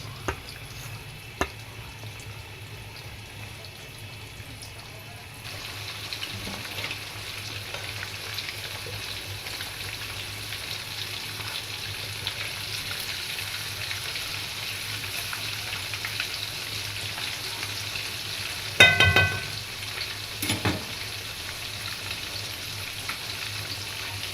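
Basmati rice bubbles in a pot at a steady boil, a soft continuous simmering hiss with faint pops, swelling slightly partway through and briefly louder with a clattering burst near the end.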